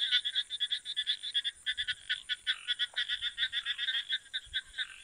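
Frogs croak near a pond at night during a camping trip, a dense rapid chorus of high clicking calls that pulses rhythmically and steadily from several animals, moderately loud and with no voices.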